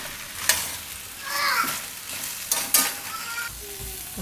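A Manchurian mixture made from leftover rotli sizzles softly in a pan while a spoon stirs it, giving several sharp clanks and scrapes against the metal over a low frying hiss.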